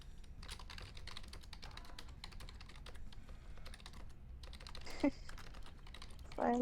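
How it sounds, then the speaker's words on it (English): Steady, rapid clatter of typing on computer keyboards during a streamed Jackbox game, a continuous close flurry of key taps running the whole stretch, with a couple of brief voice sounds near the end. "Because we're all typing responses."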